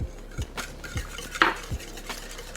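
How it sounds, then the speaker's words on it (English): A whisk beats eggs, heavy cream and brown sugar in a bowl, making a quick series of close metallic taps and scrapes against the bowl in an uneven rhythm, with no talking. "Whisk all that together."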